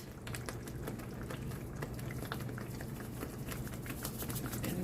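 Sauce bubbles steadily in a pot on the stove, a dense continuous patter of small pops and gurgles at close range, with no talking.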